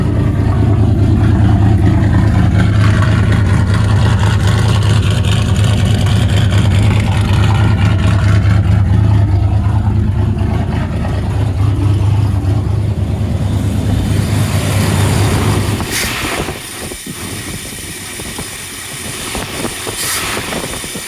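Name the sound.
car engine idling with straight pipe exhaust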